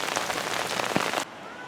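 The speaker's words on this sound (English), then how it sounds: "It's been raining all day." Steady rain patters on a surface nearby with a dense hiss, then cuts off abruptly to quiet near the end.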